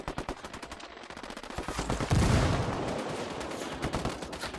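Rapid, dense automatic gunfire in the video game Ghost Recon Wildlands, a continuous clattering fusillade with a heavier blast partway through.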